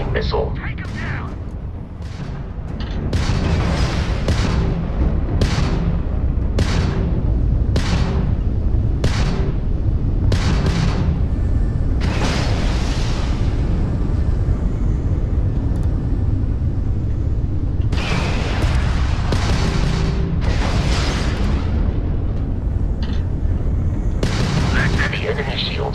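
Ship weapons firing and homing missiles launching during a space battle in Starfield, a run of loud booming blasts and rumbling explosions at irregular intervals over continuous engine drone, with voices talking throughout.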